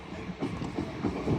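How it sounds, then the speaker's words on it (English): An LNER Azuma train pulls out of Newark Northgate station on the East Coast Main Line, a brief, close rumble with soft rhythmic clatter of wheels. "Departing now is your delayed 1354 LNER Azuma service from Lincoln Central to London King's Cross"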